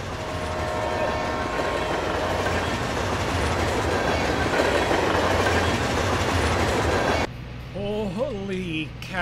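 Rumbling train from a Missouri farming roleplay game rolls past close and loud with steady clatter for about seven seconds, then cuts to a quieter scene where a voice speaks briefly.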